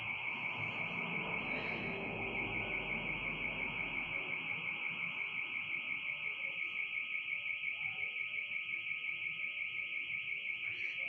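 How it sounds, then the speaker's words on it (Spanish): An alarm rings out in the countryside with a continuous, rapidly pulsing electronic tone that holds steady and loud throughout, over low rumbling background noise. "Y si hay una alarma, es por algo."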